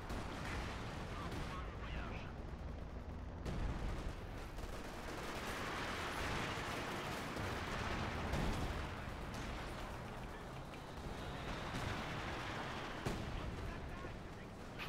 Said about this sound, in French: je le bombarde avec le canon